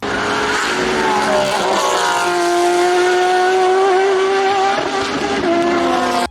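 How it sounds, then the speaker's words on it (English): A 2010s Porsche race car engine screams loudly past at Goodwood, its high revving whine climbing and holding, with a brief tire squeal, close and dominant throughout. "It is by far one of the best sounding race cars from the 2010s"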